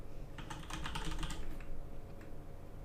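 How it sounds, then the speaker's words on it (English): Brief burst of rapid typing on a computer keyboard, close light clicks for about a second before fading into quiet room tone. "I just try to type from here"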